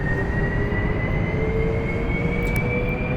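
Helicopter turbine engine spools up in DCS flight simulator, a steady loud whine with a rising high tone over a broad low rumble, continuous and close.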